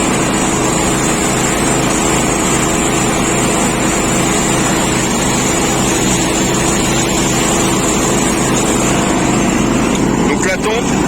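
A 25-year-old John Deere GX75 riding lawn mower runs steadily with its cutting deck engaged, a loud, constant engine drone and blade whir from close by, while someone talks over it.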